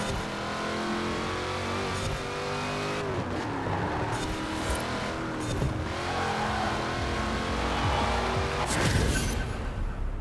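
A 2005 Ford GT races a custom track in Forza Horizon 4, its engine revving hard and continuously with rising and falling pitch through gear changes, loud and unbroken by speech.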